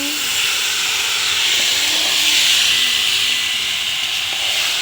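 Meat poured into a hot pan with tomato and garlic in a home kitchen gives off a loud, steady broadband sizzle and hiss that runs unbroken throughout, close and dense.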